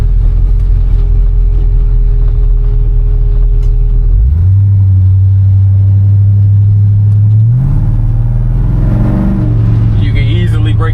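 A 1986 Chevy C10 pickup with a 5.3 V8 drives and accelerates, its loud, steady engine drone rising in pitch through gear changes over continuous road rumble.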